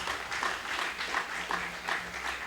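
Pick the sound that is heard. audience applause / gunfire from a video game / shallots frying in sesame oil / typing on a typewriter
audience applause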